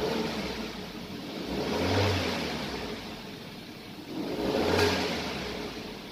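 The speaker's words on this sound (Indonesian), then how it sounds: "Nah, mesinnya udah hidup." A car engine running after a jump start with a battery charger, idling close by with two gentle swells of revving, no talk over it.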